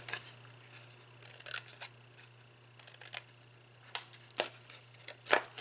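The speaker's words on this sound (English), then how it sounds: "I'll take my scissors, and I'm just going to cut straight up each of these score lines" Scissors cut straight up score lines in paper while a square-bottom bag is being made, producing a series of sharp, close snips in irregular bursts over a faint steady hum, with no talking.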